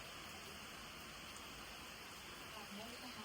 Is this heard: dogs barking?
no